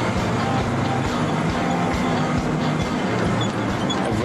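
A road train truck rumbles past on a smooth graded outback road near Kupapiri, a steady loud broadband roar of engine and tyres that holds for the whole stretch without easing.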